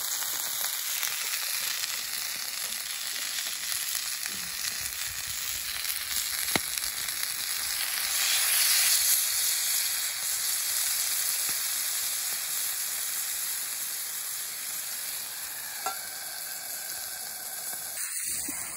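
Vegetables with a splash of water cook under a lid in a pan at an autumn campsite, producing a continuous close hiss and sizzle that swells briefly midway, with a couple of faint knocks and no voices.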